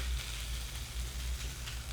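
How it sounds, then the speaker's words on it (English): Hash browns spread in a layer across a hot pan give off a steady, close-up sizzle and crackle with a low hum underneath, continuous for the full two seconds with no talking. "yeah, it's sizzling"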